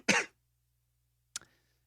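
Two close coughs, a harsh one followed after a pause by a shorter, sharper one, in an otherwise quiet room.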